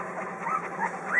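Seven-day-old puppies whimper and squeak softly, thin high cries overlapping close by over a low hum.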